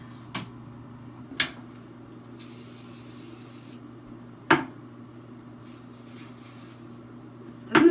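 Short hissing bursts of a scented spray sound several times at uneven intervals, with sharp clicks of the nozzle, close and fairly quiet against a soft background.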